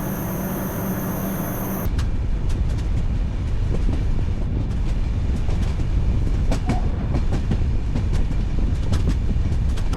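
A moving passenger train on the Udupi to Mumbai journey, heard from inside as a loud, steady rumble with rapid rail clatter and clicks throughout, following a short burst of different noise at the start; no one speaks.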